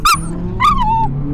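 Dogs give two sharp, loud barks close by, the second drawn out into a falling yelp, over a low background rumble.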